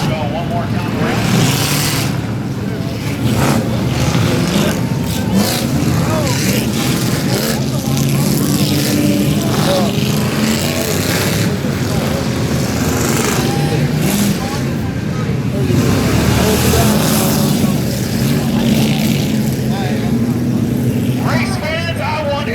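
Cars in a demolition derby, a school bus event featuring Crown Vics, circle the track with a steady, loud engine roar and rumble throughout, while an announcer talks over the noise.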